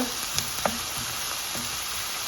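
Mushroom curry ingredients fry in a wide pan with ginger, garlic and onion, giving a steady close sizzle with a few small pops and stirring taps.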